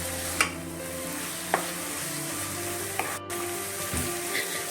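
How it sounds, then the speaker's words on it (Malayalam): Two green chillies are sautéed in a pan for fish biryani, a low steady sizzle with a few sharp spoon taps against the pan. "രണ്ട് പച്ചമുളക് വരട്ട് കൊടുക്കാം."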